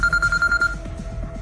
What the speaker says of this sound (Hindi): तभी शिवाय के फोन पर किसी का कॉल आया